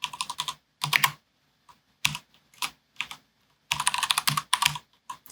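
Typing on a computer keyboard while entering a Linux alias for kubectl, close crisp key clicks in short irregular bursts separated by pauses, with no talk.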